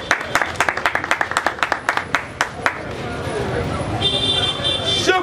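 Crowd at an event in Goma applauding, a burst of individual sharp claps that thickens into steady, loud applause, near and continuous.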